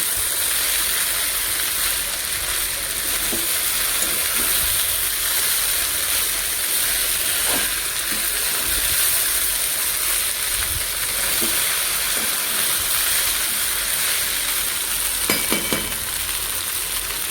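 Pasta frying in a pan for an Indian-style recipe gives a steady, loud sizzle and hiss throughout, with a few faint scrapes and clicks of stirring and no talking.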